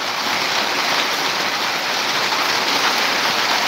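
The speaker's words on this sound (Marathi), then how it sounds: "म्हणजे कोकणात तर सध्या पाऊस पडला बघा" Light rain falls in the Konkan region as a steady, even hiss of drops on surfaces, constant and fairly loud with no voices or pauses.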